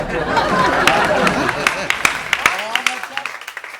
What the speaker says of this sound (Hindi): महिलाओं के साथ साथ भी पुरुष जिस तरह से तालियां बजा रहे